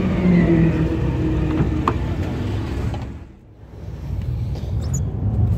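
A Porsche 911 on a passenger lap gives a steady car engine rumble and whir, close and continuous, briefly dipping before building again.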